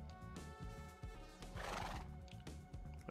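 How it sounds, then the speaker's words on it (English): A horse in Minecraft gives a loud, wavering neigh over rhythmic clip-clop hoofbeats. Both sound close and clear, with no talking. "We have a pretty fast horse."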